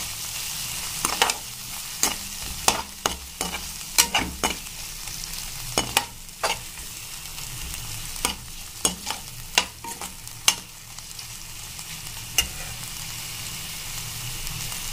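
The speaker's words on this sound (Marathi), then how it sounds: "आता मी हे सगळं मिक्स करून घेणार आहे।" Green beans stir-fried with homemade spice masala in a pan, a steady close sizzle broken by frequent sharp clicks and scrapes of a spoon against the metal at an irregular rhythm.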